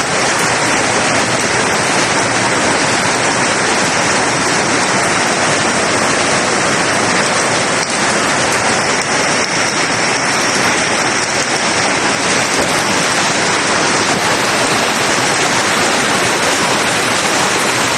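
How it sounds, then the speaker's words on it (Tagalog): Steady rain falls without wind, a dense, even hiss of drops on surfaces that stays loud and unbroken throughout. "buti na lang eh ulan lang walang kasamang hangin"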